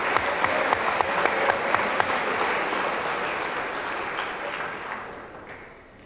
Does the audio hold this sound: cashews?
no